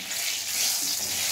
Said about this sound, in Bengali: দিয়ে দিচ্ছি 2টো শুকনো লঙ্কা